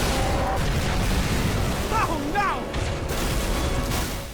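Anti-air guns in Halo 3 blow apart in a dense burst of deep booms and crackling blasts, with game chatter and a voice heard over the din.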